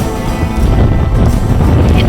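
Strong wind on a mountain summit buffets the microphone with a loud, steady roar and low rumble throughout.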